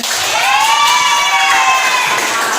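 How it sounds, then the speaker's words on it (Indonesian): Junior high schoolchildren in a classroom cheer loudly together, a dense crowd of young voices with rising shouted whoops held throughout. "boleh tepuk tangan untuk semuanya"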